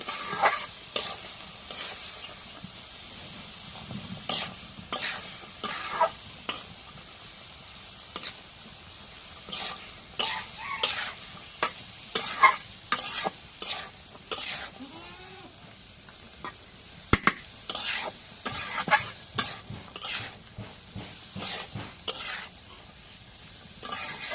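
Cumin paste and garlic paste fry in a pan with a quiet sizzle, punctuated by irregular scraping stirs and clinks of a utensil against the metal over a long stretch.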